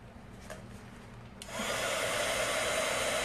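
Heat gun switches on partway through, a steady loud blowing whoosh warming 651 vinyl on a painted canvas, after a quieter stretch of faint room noise, with no talking.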